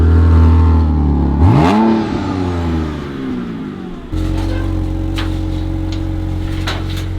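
A manual BMW 128i cold-starts with a rising rev that swoops up and settles, then drops into a steady, loud idle hum with light mechanical clatter.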